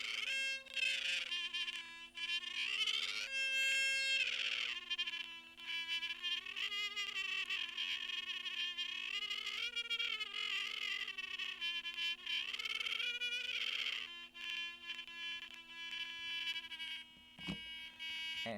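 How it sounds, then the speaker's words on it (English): Theremin-like electronic tones from a light-responsive instrument on a Circuit Playground Express board, buzzy pitches sliding and warbling continuously over a steady low hum, with a brief click near the end. "it's going to sound a little bit like a theremin"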